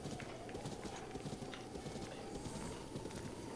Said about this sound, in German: Boah, hier sind noch wildere Pferde.